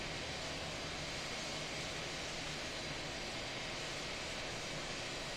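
Airbus A319 jet airliner in flight, heard as a steady, even cabin roar of engines and airflow, constant and unbroken with no talk.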